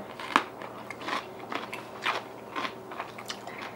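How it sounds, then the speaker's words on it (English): Crunchy dill pickles from Yee Haw Pickle Co. bitten and chewed close up, a sharp crunch followed by several softer crackling chews spread unevenly over a few seconds, with no talking. "I love how crunchy these are."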